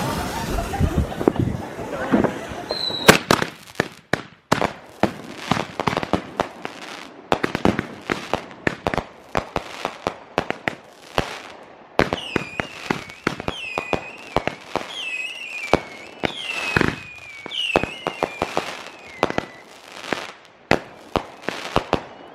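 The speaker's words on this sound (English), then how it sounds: "So the boys are getting ready to light some cakes here." Backyard firework cakes on the 4th of July fire in rapid, loud volleys of sharp bangs and crackles, with whistling shots rising between bursts and voices of children in the background.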